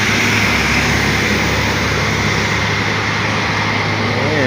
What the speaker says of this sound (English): Yeah, Cummins engine on.